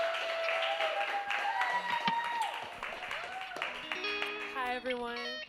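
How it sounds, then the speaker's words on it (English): An audience at a live music showcase claps and cheers for an artist about to perform. The applause runs steadily for several seconds beneath a sung or whistled melodic line and other sound. "I need y'all to go ahead and start clapping, make some noise for our next artist"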